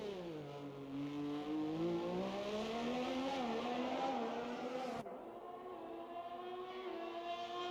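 An Alfa Romeo race car on a hot lap in a racing game, engine revving in rising and falling harmonic sweeps, with an abrupt gear shift or cut partway through and a steady climb afterward.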